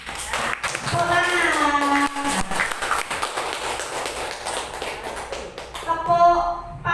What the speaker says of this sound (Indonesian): kita tepuk dulu Bapak Ibu.